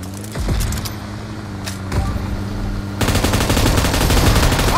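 Rapid bursts of automatic gunfire from PUBG Mobile crackle loud and close, building into sustained, dense firing over the last couple of seconds alongside a low engine-like hum.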